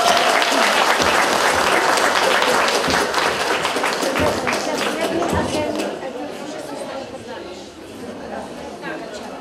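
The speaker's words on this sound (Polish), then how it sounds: "Srebrna patelnia wędruje w ręce Jarzębiny. Wielkie brawa!" Warm applause from a crowd at an Easter festival cooking contest as a silver frying pan award goes to a team, loud clapping that gradually thins, with some chatter mixed in.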